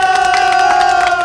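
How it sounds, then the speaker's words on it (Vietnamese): A theater audience at a comedy stage show claps and cheers, a loud dense wash of applause and shouts with steady sustained tones running underneath. "Bà con cho tràng pháo tay."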